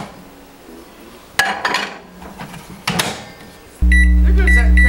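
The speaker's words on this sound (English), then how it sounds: "There goes that crazy beeper sound again" Microwave oven beeping loudly near the end, a sustained electronic tone following clattering kitchen clinks and knocks, close and prominent.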